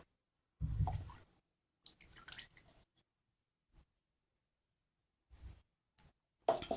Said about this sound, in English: And then I'm going to pour our Cresylic acid as well.